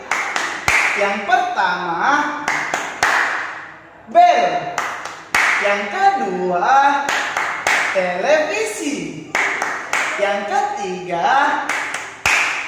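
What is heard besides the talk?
rhythmic hand clapping in a classroom chant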